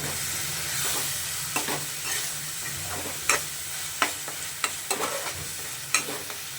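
Vegetables coated in a homemade sweet masala paste are stirred in a pan over steady sizzling frying, with repeated scraping strokes of the spoon sounding close and clear.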